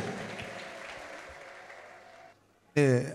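Congregation applause at a church service, with a broad sustained wash of clapping that fades out, followed by a short loud tonal burst at the end.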